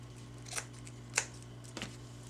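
Three brief, crisp snips of scissors cutting off fabric material during a sewing craft, spaced apart and fairly close over a low steady hum.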